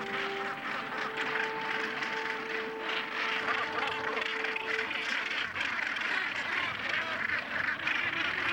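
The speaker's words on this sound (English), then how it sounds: "Nearby on Bonaventure Island lives the world's largest colony of gannets." The world's largest gannet colony on Bonaventure Island, heard as a dense, continuous chorus of harsh, overlapping cackling calls from a great many birds, steady and fairly distant, with no talk.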